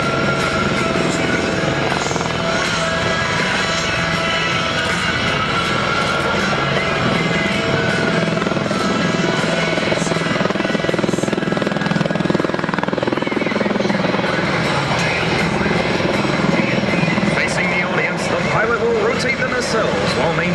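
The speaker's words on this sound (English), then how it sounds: "The pilot will complete a 360-degree turn hover, showing the unique capabilities provided by the vectored thrust from the nacelles" A US Marines MV-22B Osprey tiltrotor holds a low hover at an air show, its rotors making a steady, loud, droning roar throughout, with an announcer talking over it.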